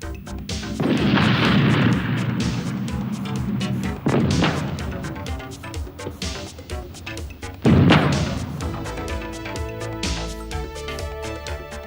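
A battle tank's main gun fires in heavy booms, roughly three of them, each followed by long rolling rumble and rattling decay. The sound is loud and close, with no voices.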